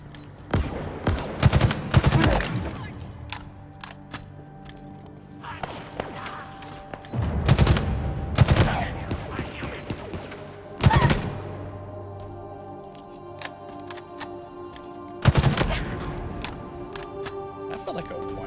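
Rapid gunfire bursts and heavy explosive thuds in the Halo Infinite campaign, recurring in loud clusters over game music and effects, with someone talking over the action.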